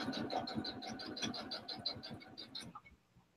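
A sewing machine stitching a seam with a half-inch seam allowance runs in a fast, steady rhythmic chatter for about two and a half seconds, then stops abruptly, leaving a faint quiet tail.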